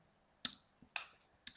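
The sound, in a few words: keyboard key click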